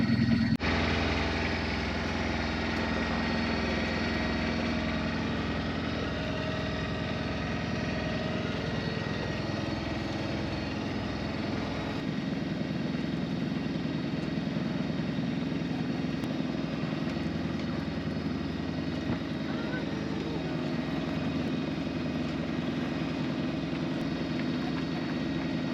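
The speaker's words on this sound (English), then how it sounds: "So engine on and revving!" A sailboat's engine runs steadily during solo sailing from Tonga to New Zealand, a continuous low throbbing drone, fairly faint and even, with no voices.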